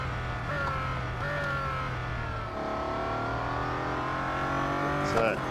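A Bugatti Centodieci racing through an autocross course in the Real Racing 3 video game sends out a steady, close, high-pitched engine drone that dips briefly at a gear change, then keeps pulling hard.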